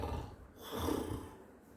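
A human voice imitates snoring with one drawn-out, rumbling breath that swells and fades, faint and heard on its own.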